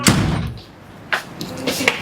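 A door slams hard with a sharp thud, followed by a couple of lighter knocks and bumps nearby, while people bicker at home.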